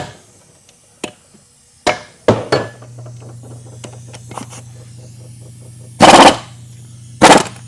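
Short loud bursts from a pneumatic impact wrench running at 170 PSI on over-tightened 4L65E transmission bolts that will not come loose, a few brief hits early then two longer rattling bursts, with a steady low hum between them.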